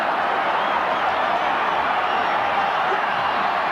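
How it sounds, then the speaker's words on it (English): A large stadium crowd roars steadily at a 1990 rugby league match between Canberra and St George, a dense, continuous wash of distant cheering with no clear breaks. "The crowd urges them on"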